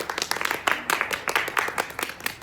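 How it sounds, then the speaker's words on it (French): A group claps for Théo during a crawl swimming lesson, a short burst of uneven, lively handclaps with some voices mixed in. "On applaudit bien fort Théo"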